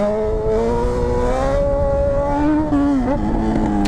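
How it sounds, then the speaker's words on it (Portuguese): A Honda CB1000 motorcycle engine revs hard from idle, a loud close whine climbing in pitch, dipping briefly and rising again, with no talk over it. "Ó, só vou acelerar, ó."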